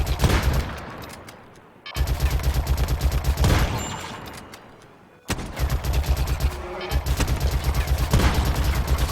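Defensive turrets in the video game RimWorld firing in dense, rapid bursts of gunfire, loud and sustained, broken by two brief lulls.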